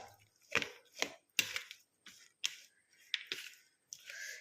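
Salted mango pickle is stirred with a utensil, producing a series of separate wet, squelchy clicks and soft scrapes in an irregular rhythm, close and fairly quiet.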